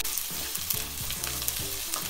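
Fenugreek seeds and two green chillies fry in hot oil for a Kerala-style mackerel curry, making a close, continuous sizzle with crackling pops throughout.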